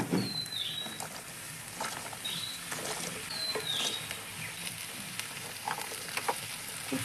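Spring onion greens fry in oil with cooked-down spices, producing a quiet, steady pattering sizzle with a few faint high chirping squeaks running through it.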